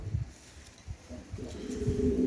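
Pigeons in a loft coo softly, a low burbling call building in the latter half over a quiet background with a few faint knocks.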